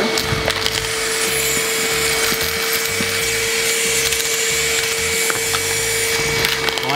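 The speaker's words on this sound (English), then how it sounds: "It got stuck right there. I was trying to suck up too many at once." A Worx 20V portable vacuum running on low while sucking up coins, a constant motor whine with rattling, clattering debris noise throughout as coins jam in the intake.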